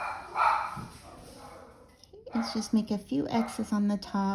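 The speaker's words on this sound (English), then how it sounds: "he is barking at a deer" A dog barking at a deer lets out a burst of repeated yips and barks from a nearby room, partly under someone talking calmly close by.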